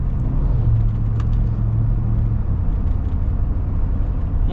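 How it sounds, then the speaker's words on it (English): A 7.3L Godzilla V8 in a 2026 Ford F-350 single cab idles steadily nearby, giving a continuous low rumble with a faint whirring layer and no talk over it. "it's definitely a hot rod engine, that's for sure"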